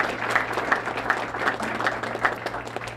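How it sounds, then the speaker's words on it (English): Audience applause at a Louisiana jobs announcement event: a steady wash of clapping from a crowd, moderately loud and continuous, with a low constant hum underneath and no voices over it. "Let's give these 3 and their colleagues a great round of applause for their leadership"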